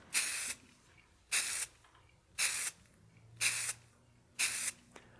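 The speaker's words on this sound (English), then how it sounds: "We don't want to sit and spray in one area too long, or you could have the spray lacquer run." Five short bursts of GluBoost Lac R' Shot spray lacquer hiss from a can onto wood at a steady rhythm, each about half a second, with quiet pauses between them.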